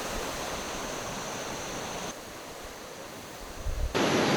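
Waterfall on Langkawi, Malaysia, heard as a steady broad rush of falling water, fairly close, with shifts in intensity and a louder surge near the end.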